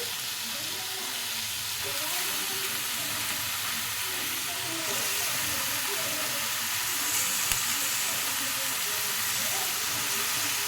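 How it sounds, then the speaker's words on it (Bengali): Chicken skins frying with tomatoes in a hot pan, giving a steady, dense sizzle and hiss with occasional stirring clatter throughout. "এবার আমি এখানে যে চিকেনের ছালগুলো ছিল ওর মধ্যে দিয়ে দেব টমেটোর সাথে।"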